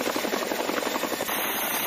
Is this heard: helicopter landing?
yes